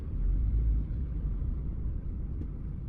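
Low, steady rumble inside a car low on fuel, sitting stuck in road traffic. The dull engine and road drone is continuous and moderately loud, with no talking.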